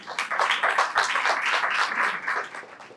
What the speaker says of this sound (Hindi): इनके लिए भरपूर तालियां बजाएं